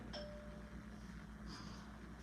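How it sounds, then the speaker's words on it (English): A house doorbell chimes twice, faint and a bit distant, with two brief ding tones more than a second apart over a low steady background hum. "I hate when people ring my bell."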